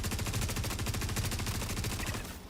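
Rapid automatic gunfire from a Star Citizen firefight rattles out in a dense, evenly spaced burst that lasts about two seconds. Individual shots stay loud and close, with no voices over them.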